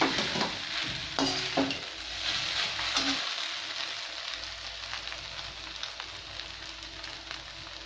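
Potatoes tossed into sabudana khichdi frying in a pan, a steady close sizzle with a few clattering utensil knocks and stirring scrapes, no voices.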